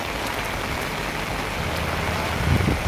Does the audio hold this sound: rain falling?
yes